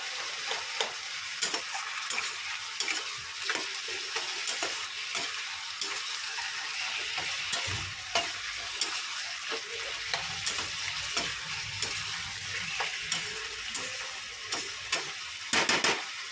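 Bottle gourd sizzles and fries in a pan while being stirred, a steady crackling hiss punctuated by frequent scraping clicks of the spatula, close and alone without talk.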